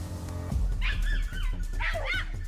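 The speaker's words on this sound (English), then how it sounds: "The moment the hound's frantic barking erupted, Leon immediately rushed forward." A hunting hound barks frantically in a forest swamp during a wild boar hunt, sounding two loud, urgent bursts of high, yelping barks close to the microphone over a low rumbling background.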